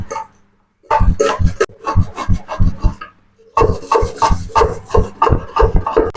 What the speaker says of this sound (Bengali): এবার তালটা আমি ঘষে কাইটা বার করে নেবো